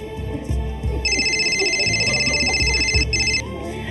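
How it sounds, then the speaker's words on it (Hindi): A phone rings with an incoming call, a steady electronic trilling ring pulsing for a few seconds at moderate loudness over a background of room noise and movement. "भाभी का फोन आ गया क्या?"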